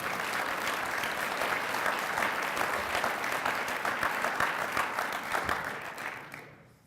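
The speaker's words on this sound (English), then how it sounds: "This is where you can clap." An audience at a university research lecture and award ceremony claps in a full, steady round of applause that holds for several seconds, then thins and fades away near the end.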